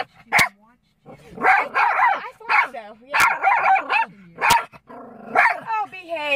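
A dog gives a few sharp, close barks mixed in with people talking nearby.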